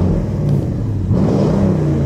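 A loud, throaty straight-piped Porsche Cayenne Turbo SUV engine revs up and drops back, deep rumbling close by with a short rise and fall in pitch.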